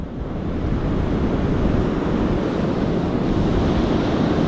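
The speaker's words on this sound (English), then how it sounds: "Got a little bit of wind." Wind and surf on a beach while surf fishing, with a dense, continuous roar of breaking waves and gusting wind buffeting the microphone, loud and close throughout.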